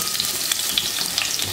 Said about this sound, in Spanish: Una vez caliente la cacerola para hacer el sofrito, ponemos el aceite, ponemos el ajo molido